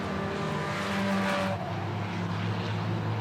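Steady roar of racing engines at a distance during an enduro race at Wyant Group Raceway, a continuous high-speed drone with a shift in pitch as cars pass.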